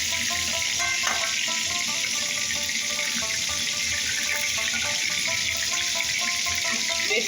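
Pieces of shol fish fry lightly in hot oil for a radish curry, giving off a loud, continuous sizzling hiss that holds steady throughout.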